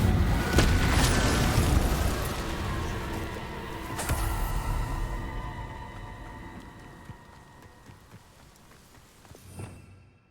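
Hogwarts Legacy fire spell Incendio cast in combat, a loud burst at the start followed by a sustained roaring whoosh, another sharp impact around four seconds, then decaying rumble and a late pop.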